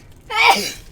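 One sharp sneeze, a quick intake followed by an explosive burst, close and fairly loud.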